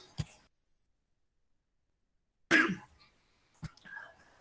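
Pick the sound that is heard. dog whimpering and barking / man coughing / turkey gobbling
man coughing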